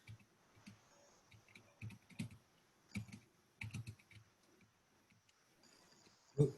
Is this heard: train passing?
no